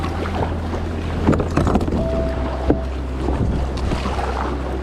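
A paddle dipping and pulling through water from a small boat on an early spring morning, soft splashes and drips over a low steady hum of wind on the microphone.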